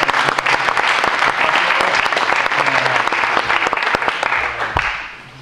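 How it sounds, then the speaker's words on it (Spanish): A conference audience at a TypeScript, React and Next.js talk gives a long, loud round of applause, a dense continuous roar of clapping that holds steady, then thins and stops near the end. "lo primero que os quiero pedir, por favor, es un pedazo de aplauso"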